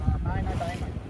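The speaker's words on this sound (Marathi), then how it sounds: "बोटला चालू केलंय" Fishing boat running at sea off Uran, a low steady engine rumble mixed with wind buffeting the microphone and water rushing past the hull.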